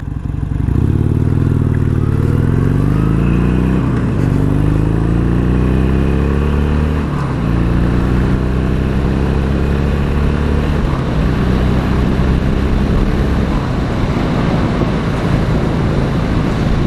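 Harley-Davidson Sportster motorcycle running: a loud, close, steady engine drone whose pitch climbs and settles in several rising sweeps as it revs, with no talking over it.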